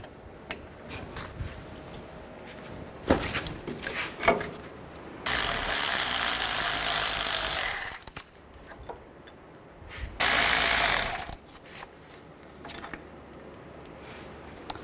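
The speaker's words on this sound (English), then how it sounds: "Now remove the caliper, using 18 millimeter socket, remove these two bolts." An 18 mm socket on a ratchet or power tool backing out the brake caliper bolts on a 1999-2007 Chevy Silverado 2500HD: two loud, sustained whirring bursts of a few seconds each, with scattered clicks and clanks of tools between them.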